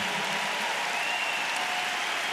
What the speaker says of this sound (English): So I have yet to personally applaud you while I've been on this stage, but I want to take the time to do so